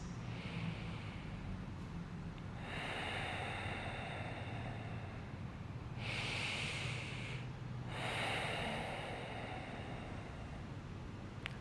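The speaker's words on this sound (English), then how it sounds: "Just breathing deep" Slow, deep breaths during a gentle yoga session, three long breathy inhale-exhale swells close to the mic over a steady soft background hiss, with no talking.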